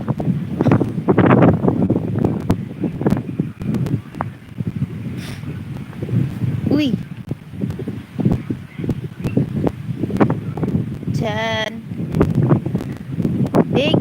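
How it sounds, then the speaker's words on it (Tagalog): Seaside wind gusts buffet the microphone under a tree by the sea, a rough continuous rumble with rustling, while someone talks over it. "Napakasarap ng hangin."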